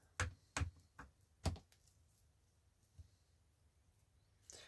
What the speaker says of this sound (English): we're just going to cut down the center